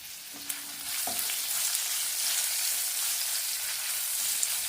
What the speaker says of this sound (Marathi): मिरची आपल्याला तेलामध्ये छान परतून घ्यायची आहे